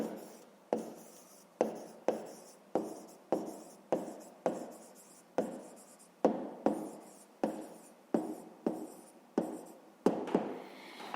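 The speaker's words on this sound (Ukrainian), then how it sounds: "І записуємо неправильні дроби" Pen on paper writing fractions by hand, close up: a series of short scratchy strokes in quick bursts, each fading out, repeating about fifteen times with brief pauses between, quiet and alone.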